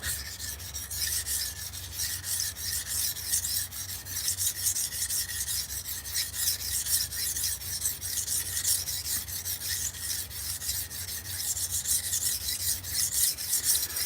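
Knife stroked back and forth on a coarse, aggressive sharpening stone, a steady rhythmic rasping scrape repeated many times at close range with no talking.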